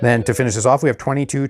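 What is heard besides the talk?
None of the usual background noises is heard.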